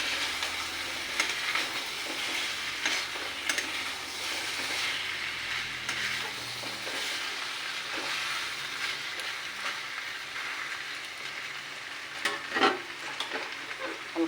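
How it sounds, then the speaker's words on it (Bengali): Jackfruit and fried potato stir-fried together in spice masala, a steady close sizzle with scattered scraping stirs and a few sharper clacks near the end, no one talking. "এখন ভাজা করে রাখা আলুটাও দিয়ে দিব একসাথে, দিয়ে আবার আমি ভালো করে কষিয়ে নিব।"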